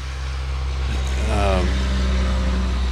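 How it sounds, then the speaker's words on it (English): A truck rumbles past during an interview about military service, a steady low engine drone that swells near the middle and lingers, with a voice in the background. "wait for the truck to go by."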